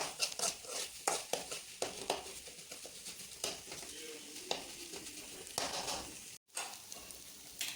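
Beef curry masala frying in a pan while being stirred, a continuous sizzle broken by rhythmic scrapes and clinks of the spoon, close and fairly soft.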